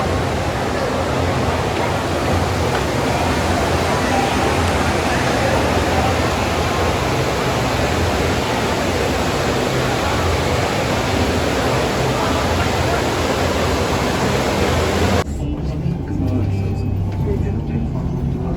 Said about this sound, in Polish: przed Wami największy wodospad na świecie. Co prawda sztuczny największy